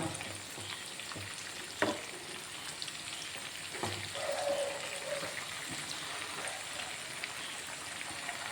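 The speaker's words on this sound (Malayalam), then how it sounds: "ഇനി നമുക്ക് ഈ സൈഡും കൂടി ഒന്ന് 10 മിനിറ്റ് ഫ്രൈ ചെയ്തെടുക്കാം" Chicken pieces frying in hot oil, a soft continuous crackle and sizzle with a couple of faint utensil knocks, fairly quiet and without speech.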